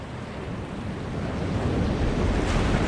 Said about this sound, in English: The wind seems to be picking up on its own.